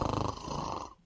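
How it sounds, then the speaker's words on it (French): A man snores loudly and harshly in a condo building in a recording made by neighbours two floors above. The rough, rattling snore comes close and alone and stops abruptly after about a second. "quand vous ronflez de même, il n'y a personne d'autre qui peut dormir dans votre bloc à condo"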